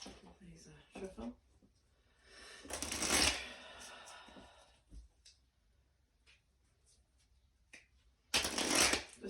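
A deck of cards is shuffled in two loud riffling bursts several seconds apart, near and crisp, with quiet clicks and handling noises between them and a voice speaking briefly at the start.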